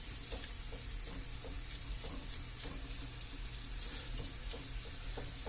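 Ground meat mixture for tater tot casserole, seasoned with Worcestershire sauce, browns in a pan with a steady, dense sizzle and occasional soft stirring clicks, close and continuous with no talking.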